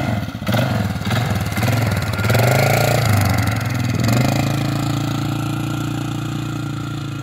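A Polaris off-road vehicle's engine sputters, then settles into a loud, steady mid-pitched drone as the vehicle pulls away, with a brief rising rev in the middle.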